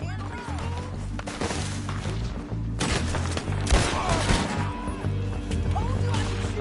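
Gunshots in Red Dead Redemption 2 ring out as several sharp cracks and thuds amid a busy fight, fairly near, with a voice speaking over part of it.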